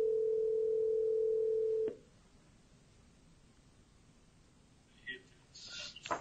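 A steady telephone dial tone sounds loud and close for about two seconds and then cuts off during a call to a live broadcast. Quiet line noise follows, then a few brief electronic beeps near the end.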